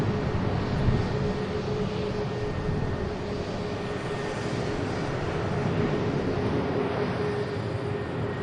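A Ryanair Boeing 737 takes off from Manchester Airport, a steady broad jet engine roar heard from a distance, sustained and fairly even, with no talk over it.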